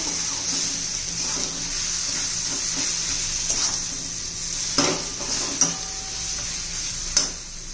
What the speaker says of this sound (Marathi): छान मसाल्याबरोबर आपण परतून घेऊया.